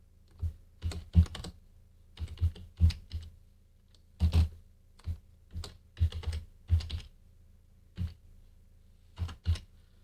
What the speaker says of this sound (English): this takes a little bit of typing.